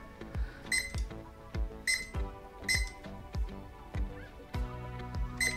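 A TM86 digital timer gives a series of about seven short, sharp electronic beeps as its buttons are pressed during setting, spaced irregularly and heard close up with no talking.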